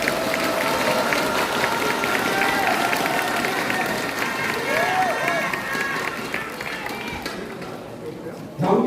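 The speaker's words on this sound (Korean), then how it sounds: "박수 부탁드리겠습니다." A crowd of party members at a political rally in Gyeonggi applauds in a sustained, dense wash of clapping and crowd noise, with people talking over and around it.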